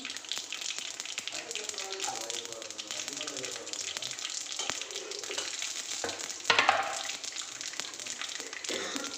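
Garlic fries with mustard seeds and curry leaves in hot oil, giving a steady soft sizzle and crackle close by, with a brief louder spatter partway through.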